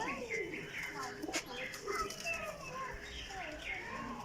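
High-class breeder pigeons in a loft, males chasing females, coo in soft repeated throaty calls close by, mixed with someone talking over them.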